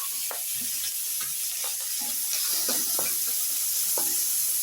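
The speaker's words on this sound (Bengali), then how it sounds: "এখন আমি করব কালো জিরে ফোড়ন দেব।" Black cumin seeds tempering in hot oil left from frying fish: a continuous bright sizzle and hiss scattered with small pops and crackles, close up and steady, no voices.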